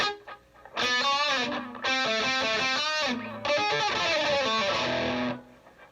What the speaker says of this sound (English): So this is like an echo.